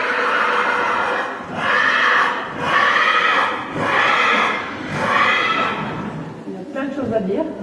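A young horse being started under saddle neighs in several long, loud whinnies with brief pauses between, followed by softer rustling at the end.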